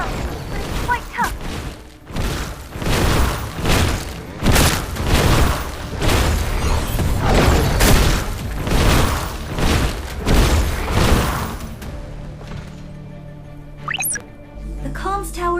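A string of heavy booming blasts from the destruction of a comms tower in RF Online, thudding in rapid succession for several seconds, loud and close, then easing into quieter mechanical sounds and a brief whoosh.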